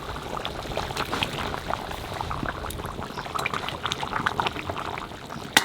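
Desi chicken curry bubbling in a pot as water is added: continuous boiling and gurgling liquid with a pouring, splashing texture, close and steady, with no talk.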